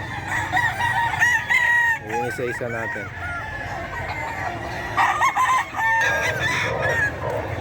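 Roosters crow repeatedly amid clucking chickens at the Bocaue pet market while someone speaks briefly nearby.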